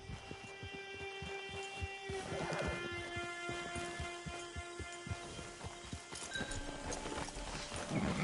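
Rhythmic clip-clop of horse hooves trotting steadily in the video game Red Dead Redemption 2 Online, close and clear over a faint background hum, with no talking.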